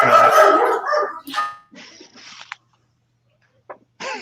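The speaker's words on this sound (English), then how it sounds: "Get them dogs out of here." Several dogs bark in a loud, busy burst at the start, followed by a few scattered yips and short barks with gaps of quiet between them.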